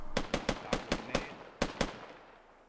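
A frag grenade blast in a video game firefight, heard as a string of sharp, loud cracking bangs in quick succession, then a fading tail into quieter ambience.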